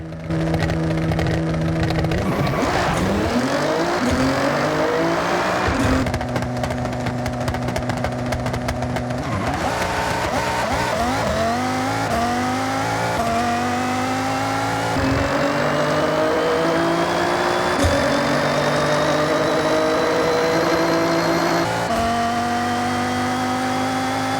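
Nissan GT-R and Mazda Miata race over 1 km, engines revving hard and climbing through repeated gear changes, loud and continuous with rising whine, no talk.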